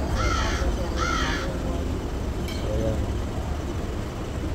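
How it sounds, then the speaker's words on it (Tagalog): Crows cawing outdoors at a park, two loud, harsh calls close together, then a fainter caw later over a low background rumble of traffic. "So yan, may mga ibon din dito."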